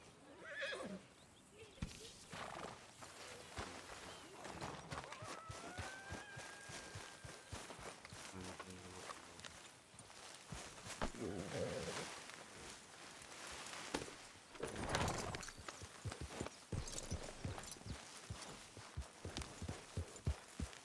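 In Red Dead Redemption 2, a horse whinnies, then hooves clop along with footsteps, set against busy game ambience and effects.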